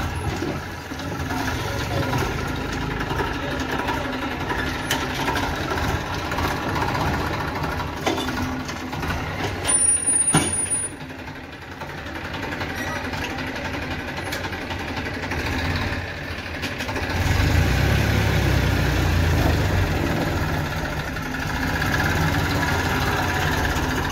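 Heavy tractor engines rumble and idle continuously nearby while a JCB 3DX loads mud into tractors, a low droning mix that swells louder toward the end.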